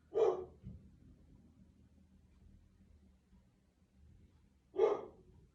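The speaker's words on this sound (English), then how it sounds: "I know she's barking, probably somebody's at the door" A pet dog named Bella gives two short, sharp barks indoors, one at the start and another about four seconds later, with quiet room tone between them.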